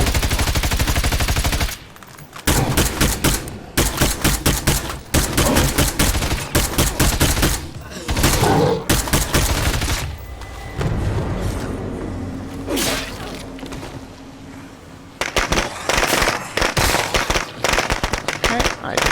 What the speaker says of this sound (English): I did not mean to throw more firecrackers